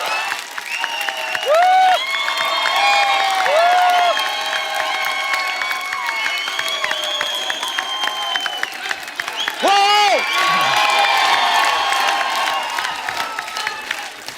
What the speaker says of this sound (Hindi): तो आप सबकी जोरदार तालियों के बीच में इनवाइट करना चाहूंगा one and only superstar mister Salman Khan